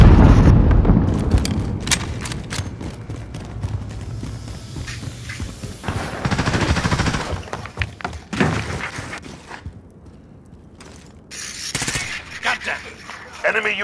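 Grenade blasts and gunfire from Call of Duty: Modern Warfare, loud bursts and scattered shots over a busy battle mix, with voices talking throughout.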